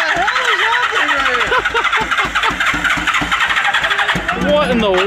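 A mini pulling tractor with wheelie bars cranks over and its engine catches into a loud, rough, pulsing run up close, with excited talking over it throughout.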